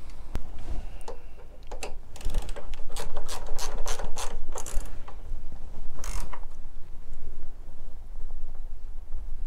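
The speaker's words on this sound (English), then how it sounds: "So that'll need the spanner and the Allen key, the 8mm Allen key to tighten that up." Ratchet spanner and 8mm Allen key tightening a bracket for nylon panniers on a Triumph Thruxton R motorcycle: rapid clicking ratchet strokes in bursts, close and clear, with a low steady background hum and no talk.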